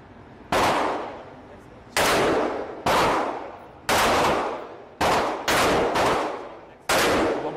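Eight loud, sharp gunshots ring out at an indoor gun range, fired one at a time at uneven gaps of roughly half a second to a second, each blast trailing off in a short echo.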